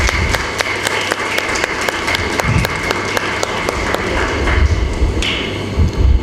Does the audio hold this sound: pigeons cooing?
no